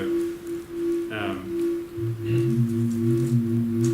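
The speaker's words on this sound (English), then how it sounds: "the frequency of my sine wave is depending on the RMS, the root mean square of my input signal" A sine wave tone whose pitch follows the RMS level of an input signal, holding a steady pitch that later shifts to new steady pitches, heard alone and fairly loud alongside brief bursts of other sound.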